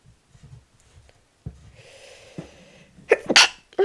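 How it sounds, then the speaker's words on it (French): A single loud sneeze with a sharp burst of breath, preceded by some quiet shuffling and a short inhale. "je sentais que j'avais envie d'éternuer, excusez-moi."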